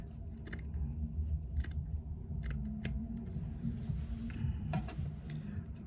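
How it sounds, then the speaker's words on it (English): Scissors snip along the edge of foam lining for a twist pouch: a series of short, sharp cuts in uneven rhythm, close by, over a steady low background hum. "snip along the edge of the foam"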